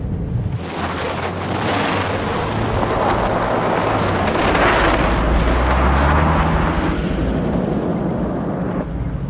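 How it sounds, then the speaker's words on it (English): A 4WD vehicle runs in two-wheel drive along a gravel dirt road, giving a loud continuous rumble of tyres on loose stones mixed with heavy wind buffeting, with no talking. "running in two-wheel drive on a dirt road can contribute to a loss of control"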